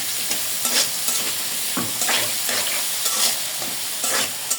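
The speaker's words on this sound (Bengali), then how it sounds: "পেঁয়াজটা মোটামুটি ভাজা হয়ে গেছে" Chopped onions with green chillies and garlic frying in a pan, a steady close sizzle broken by repeated scraping strokes of a spoon stirring, with no talking.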